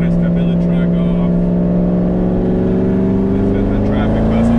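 Supercharged M7 C7 Corvette engine droning loud and close from inside the cabin, a steady multi-toned growl that climbs in pitch toward the end as it accelerates.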